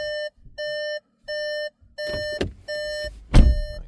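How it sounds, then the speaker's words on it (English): A SEAT Arona's warning chime beeps steadily with the ignition on, five evenly spaced tones, with clunks and a door thud partway through. "Annoying beeping as well."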